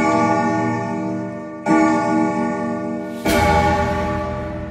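A clock bell in the Gravity Falls cartoon chimes three times, each loud, ringing strike sustaining and overlapping the last, with no talking.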